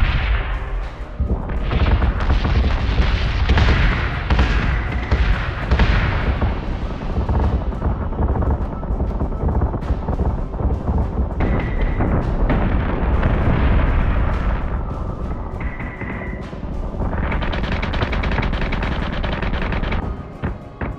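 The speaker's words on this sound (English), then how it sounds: "We're taking sustained fire." Sustained weapons fire and explosions from the space combat game Battlestar Galactica Deadlock, a loud, continuous barrage of booming blasts and rapid shots with no quiet gaps, alone without voices.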